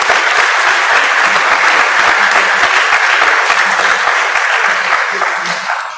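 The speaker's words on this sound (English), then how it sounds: "Let's give all of them a loud applause." Audience at a university inaugural lecture on democracy in Africa giving loud, dense, sustained applause that fills the room and tapers off slightly at the end.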